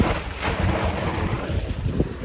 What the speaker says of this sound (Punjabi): ਲੈ ਮਿੱਤਰੋ ਚੱਲਣ ਲੱਗੀ ਜੇ ਮੋਟਰ